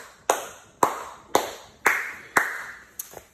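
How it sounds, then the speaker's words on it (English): Hands clap at the start of a children's good-morning song, six sharp, evenly spaced claps close by, each ringing briefly, the last one softer and doubled. "We can start off with the clap."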